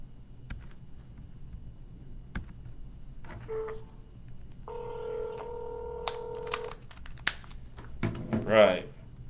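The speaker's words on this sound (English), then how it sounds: "And let's just get right to the dialing." Telephone dialing tones sound as a series of short electronic beeps, followed by a sustained dial tone and a brief ring, close and fairly clear, with faint background noise and a short voice near the end.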